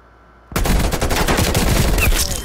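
An artillery strike in Black Ops Cold War, heard as a sudden loud barrage of booming explosions that starts abruptly and keeps rumbling and cracking without pause.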